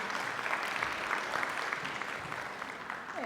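Audience applause after a chamber ensemble performance at a women's music symposium, a steady wash of clapping from a sizeable crowd holding at even loudness throughout with no voices over it.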